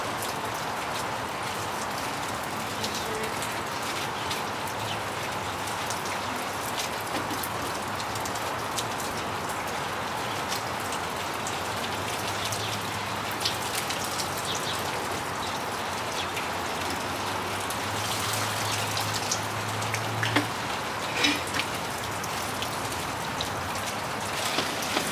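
Rain falls steadily outdoors, a soft, even patter and hiss that continues throughout, with occasional louder drops and no voices.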